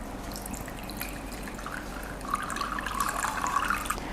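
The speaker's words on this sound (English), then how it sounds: "Okay, so I'm going to put my hot water in there," Hot water poured into a moka pot, a soft liquid splashing and trickling that grows fuller and louder partway through, steady and close with no talking.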